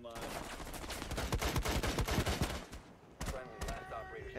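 Rapid gunfire bursts from a Rainbow Six Siege match, dense and loud for the first few seconds, then thinning to scattered sharp shots, with a voice briefly audible.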